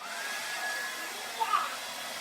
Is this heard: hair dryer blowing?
yes